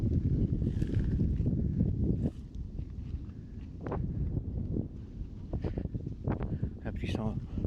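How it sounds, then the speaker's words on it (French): Steady wind buffets the microphone in a constant roar at Saint-Benoît-des-Ondes, France, with faint footsteps and occasional voices underneath. "le vent il souffle bien"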